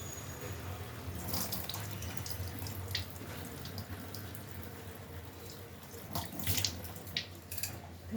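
Tap water runs steadily over flattened rice (chuda) being washed, a soft continuous splashing hiss with scattered louder sloshes and drips, fairly faint and close, with no talk.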